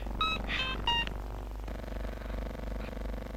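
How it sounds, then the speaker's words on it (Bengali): A short run of electronic keypad tones as a telephone number is dialed in a Bangla film scene, a few quick beeps in the first second, then a steady low hum. "আমি এক্ষুনি ফোন করছি।"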